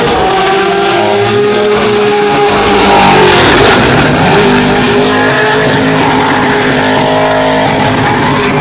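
A 1957 Lotus 12 Formula 2 race car roars loudly and continuously at a classic car race, its engine note rising and falling as it passes close by.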